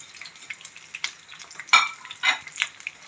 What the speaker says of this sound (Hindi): डबल रोटी को अच्छी तरह फ्राई करेंगे।